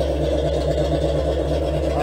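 A 1983-1986 Chevrolet Monte Carlo SS with open exhaust idles, a steady low rumbling burble that stays loud and even throughout, with no voices.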